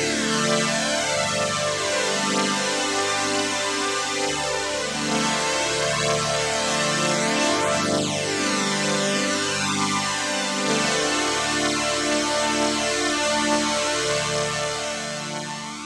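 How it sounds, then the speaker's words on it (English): Roland RS-09 string section with ensemble chorus, envelope release and LFO vibrato plays sustained, shimmering chords that shift steadily, loud and alone with no talking throughout. "So if we add both the string footings, the ensemble effect, some release from the envelope, and a little bit of vibrato from the LFO over there"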